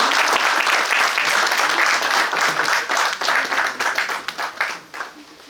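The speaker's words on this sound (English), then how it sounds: "a huge round of applause" A large conference audience claps loudly and steadily, then the applause thins and fades toward the end.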